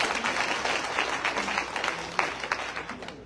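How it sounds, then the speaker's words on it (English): An audience at a presidential candidacy announcement event in Virginia claps for itself, a dense burst of applause from a crowd, fairly loud and steady, with a few sharper claps standing out. "Let's clap for ourselves."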